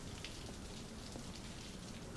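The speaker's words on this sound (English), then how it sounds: "The clouds are heavy and gray, and the raindrops are the size of garden peas." Rain falls steadily beneath heavy gray clouds, a soft, even patter of drops spread across the whole span, fairly quiet and with no voices.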